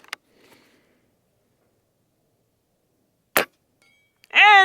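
An Umarex Komplete nitrogen-powered airgun fires at a target: one sharp, close crack of a shot and impact mid-clip, a faint tick near the start, and a short vocal exclamation at the end.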